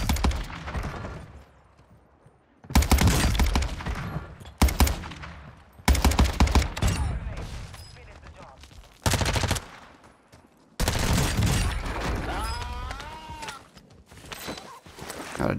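Bursts of Cronen Squall rifle fire from Warzone 2 rip out in several loud rapid volleys separated by short quiet gaps, with footsteps and shuffling between the bursts.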